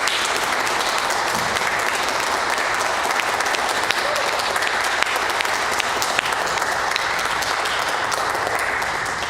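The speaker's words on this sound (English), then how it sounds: "Let's have another round of applause." Sustained, even applause from a concert audience after a handbell choir performance, steady and loud throughout with no break.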